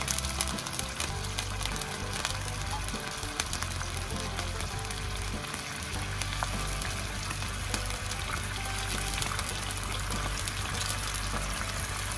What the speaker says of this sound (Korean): 이제 육수와 바질 페스토 5스푼을 넣어주세요